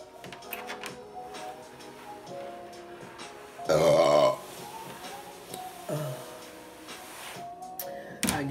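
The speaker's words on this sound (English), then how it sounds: "I guess y'all gotta see how many burps I can get." A person burps loudly once, close up, a short guttural belch standing out over quiet room sounds and a few faint clicks.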